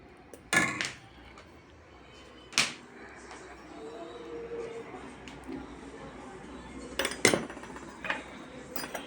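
Spoons and dishes clink while a table is set: a few sharp metallic clinks and clatters spaced a few seconds apart, nearby, over quiet room background.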